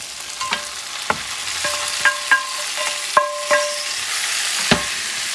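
Ribs sizzle and fry in a pot with garlic for a barley and rib stew, a steady loud hiss broken by several sharp clinks of a spoon stirring against the pot.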